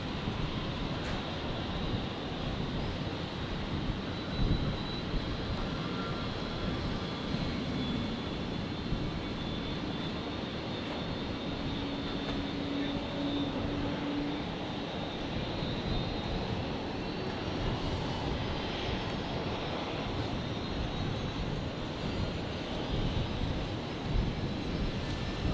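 A Virgin airliner landing at Brisbane airport, its engine roar steady and fairly loud throughout, a broad continuous rumble with no talk over it.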